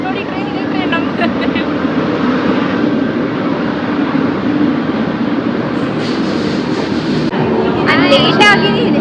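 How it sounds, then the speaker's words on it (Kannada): A train on the monsoon route to Dudhsagar Falls in Goa rumbles and rattles steadily and loudly close by, with people talking over the noise. "ನೋಡಿ ಟ್ರೈನ್ ನಮ್ದು."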